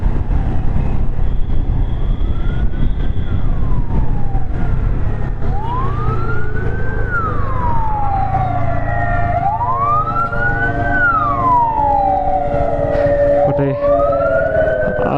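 A loud ambulance siren wails in rising and falling sweeps over steady traffic rumble, close by and continuous, with no talking.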